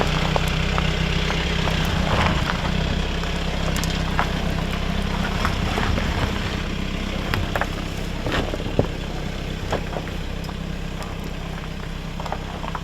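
A Volkswagen Golf AllTrack descends a slope of loose, crumbling lava ground under light throttle, its engine a steady low drone with scattered crunches and knocks from the tyres and loose stones, heard from inside with no talk.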